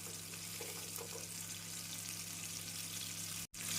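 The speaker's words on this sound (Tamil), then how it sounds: "நாம் அனைத்து சிக்கனையும் இதேபோல் பொரித்து விடலாம்." Popcorn chicken frying in hot oil in a kadai, a steady dense sizzle that holds throughout and cuts out briefly near the end.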